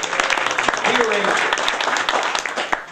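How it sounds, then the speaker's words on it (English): Applause from an audience at an outdoor groundbreaking ceremony for the Morganza Georgetown project, a spread of many hands clapping with voices mixed in underneath. "So a round of applause to Dennis for this fine day."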